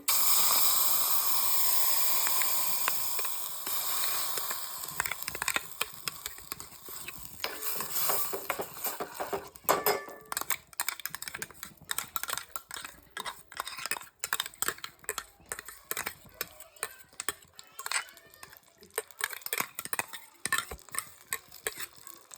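Grated beetroot is stirred and roasted in ghee for beetroot halwa: an opening sizzling hiss gives way to a continuous run of scraping spoon strokes in the pan.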